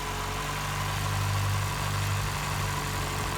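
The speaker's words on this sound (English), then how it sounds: "will hear healthy and happy CVH engine sound." A 1.3 CVH engine in a Ford Escort mk3 idles close by with a steady, even low hum and constant mechanical drone throughout, with no voices.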